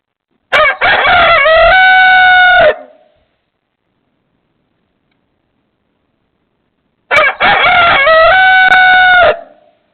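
A rooster crows loudly twice, each long crow close by, separated by several seconds of silence.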